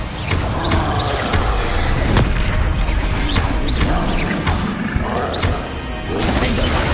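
Spell effects from the Hogwarts Legacy video game, including the Incendio fire spell, land as a steady run of loud crashing, whooshing bursts and thuds with no talk over them.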